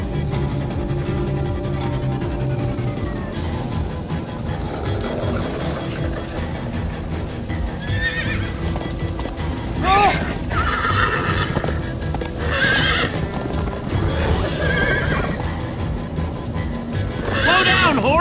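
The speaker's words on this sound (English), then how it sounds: "Slow down, horse!" A galloping horse in the Minecraft Story Mode video game, with quick hoof clip-clops and several high whinnies and neighs over a busy music score, while voices talk in between.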